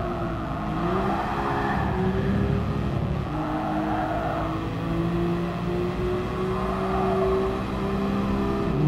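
Twin-turbo 2.6-litre straight-six of a Nissan Skyline GT-R R34 in GT Sport, heard from the cockpit view as a steady, loud engine drone with rising and falling revs through gear changes, no talking.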